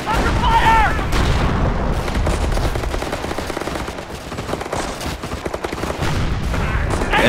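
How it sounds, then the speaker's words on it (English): Sustained gunfire and artillery in the World War II strategy game Company of Heroes, set on D-Day: dense, continuous shots and booms at steady loudness, with a brief voice at the start. "Heavy enemy fire on our position!"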